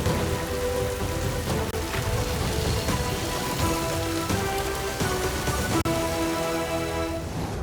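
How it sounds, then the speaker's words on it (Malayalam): Heavy monsoon rain pours in Thrissur, Kerala, a dense, loud, continuous downpour drumming on surfaces, with a faint tonal background layer running beneath. "8 മണിവരെ നിർത്താതെ മഴ പെയ്തു."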